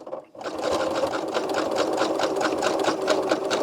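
Sewing machine running a wide zigzag stitch across coiled rope for a rope bowl: after a brief quiet start, a fast, even mechanical whirr with rapid needle ticks, close and steady, no speech.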